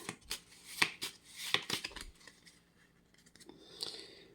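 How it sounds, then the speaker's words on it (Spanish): Cards from an Aventuria game deck are shuffled by hand, giving a few quick riffling, flicking bursts followed by quieter slides and taps close by. "vuelvo a meter en el mazo las que había dejado antes, volviendo a barajar"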